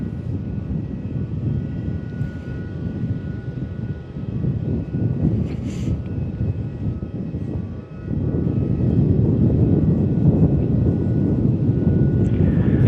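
An airliner at Melbourne Airport produces a steady broad engine roar that swells louder partway through, a continuous rumble with faint wind noise and no talking.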